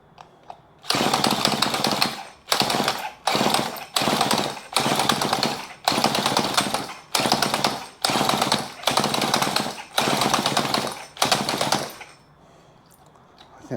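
A 1970s Homelite chainsaw, left outside for years, is pull-started about ten times in a loud, close, rapid series of rasping cranks, each with a brief sputter, before falling quiet.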